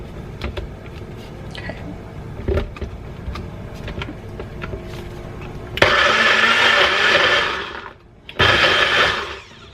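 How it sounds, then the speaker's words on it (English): An electric kitchen blender roars into action after quiet handling noises, running steadily for a few seconds, stopping briefly, then starting again loud and close. "Now we're gonna go over to the blender and we're gonna try this again."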